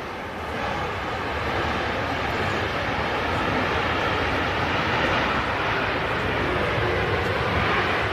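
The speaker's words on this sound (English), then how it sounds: "And already an arrival coming in. It's a Ryanair 737." A Ryanair Boeing 737 arrives at Manchester Airport, its jet engines giving a loud, steady, broadband roar that holds for the whole stretch without letup.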